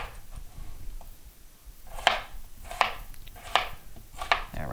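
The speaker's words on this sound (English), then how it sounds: "Slice the rest of it. Cut that into chunks." A knife chops russet and red potatoes into chunks on a board, with four crisp, evenly spaced cuts against a quiet background, close by and with no talk.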